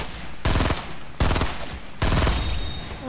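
Video game gunfire, with an AK rifle in use: three loud, close bursts of rapid automatic shots, each cutting in sharply over a constant background din, and no voices.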